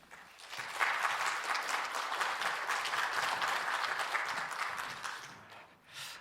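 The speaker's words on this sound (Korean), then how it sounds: "저는 나오신 박수로 한번 환영하겠습니다." Sustained applause from a seated audience at a church leadership seminar in Korea, welcoming a newly appointed pastor to the front; dense, even clapping fills the room for about five seconds, then thins and fades.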